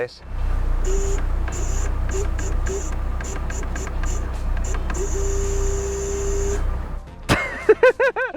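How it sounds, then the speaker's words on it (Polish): Steady buzzing hum from the power steering pump of a 2022 Lada Niva held at full steering lock, with intermittent higher whining tones over a low drone, ending in a few sharp louder bursts. "Pompa wspomagania układu kierowniczego zdaje się dziwnie brzęczeć w czasie maksymalnego skrętu."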